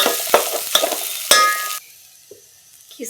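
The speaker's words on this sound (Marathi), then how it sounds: "हा रताळ्याचा किस टाकायचे. किसल्याला आपण चांगला परतून घ्यायचा." Grated sweet potato being sautéed in a pan for kheer, with three sharp scraping stirs over a bright sizzle for about two seconds, then near quiet with a few faint taps.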